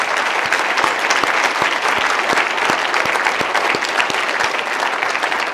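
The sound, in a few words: audience applause for award inductees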